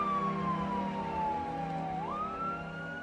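An ambulance siren wails close by, a single steady tone gliding slowly downward and then jumping back up, heard alone over a low engine rumble.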